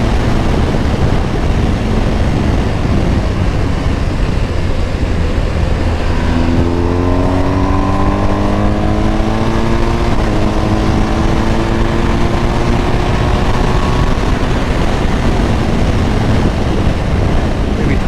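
A car engine on a racetrack roars steadily, its pitch rising as it accelerates, with strong wind rumble throughout and no talking.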